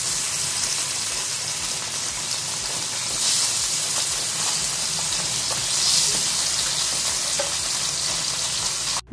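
Fish fries in a battered, worn-out old frying pan, a continuous close sizzle and crackle of hot oil holding steady throughout, ending with a brief knock.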